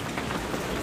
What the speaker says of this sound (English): It's very nice to see it raining like this.